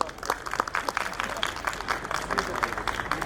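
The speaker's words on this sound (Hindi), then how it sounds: "बस जोरदार सी तालियां।" Hall audience at a Teachers Day gathering in Gangapur claps loudly and continuously for a few seconds, a dense crowd applause with some voices mixed in.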